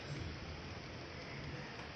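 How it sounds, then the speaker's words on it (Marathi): Light summer rain falling in the morning as the first shower of the day, a steady faint hiss with a low rumble of thunder underneath, continuous and distant, with no one speaking. "आता पहिला पाऊस आहे हा आजचा."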